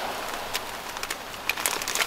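Rain falls outdoors on Tanegashima island in a breezy spell, a steady crackling patter with scattered sharper drops close by and no talking.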